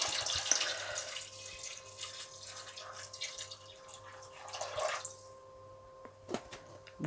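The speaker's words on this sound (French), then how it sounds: "Et on va couvrir d'eau à hauteur." Water poured from a tap over beans in a cooking pot, a faint steady splashing stream that trails off partway through, followed by a couple of small clinks.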